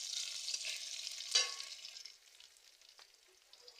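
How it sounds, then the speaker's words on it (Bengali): Chopped onion with bay leaf and whole spices frying in oil in a wok, a soft steady sizzle with a brief louder stir near the middle, then fading quieter. "কড়াইতে আমি তেল দিয়ে দিচ্ছি, একটা তেজপাতা দিয়ে দিচ্ছি, আমি ফোড়ন দিয়ে দিচ্ছি, পেঁয়াজ কুচি দিয়ে দিচ্ছি কড়ার মধ্যে"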